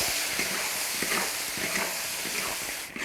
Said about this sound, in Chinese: 把那个鸡放进去一起炒